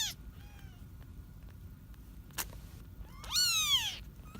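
Several young kittens meowing indoors, with thin short mews early on and a louder, longer cluster of cries near the end, all over a low steady background rumble.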